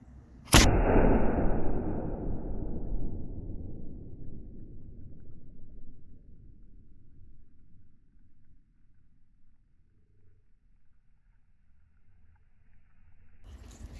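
A real cannon fires once at a Revolutionary War 250th anniversary event: a single sharp, loud blast followed by a long rumbling decay that fades over many seconds.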